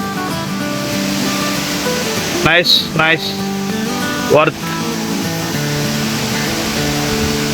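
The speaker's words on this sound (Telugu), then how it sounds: "ఈ వాటర్ అలాగా అటు కాలువగా ఇటు వచ్చి కిందకి కూడా ఫ్లో అవుతుంది." Water rushing at Minamaluru waterfall, a loud constant roar of broadband noise filling the scene, with a person briefly speaking over it near the middle.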